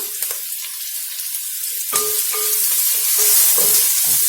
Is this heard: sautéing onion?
yes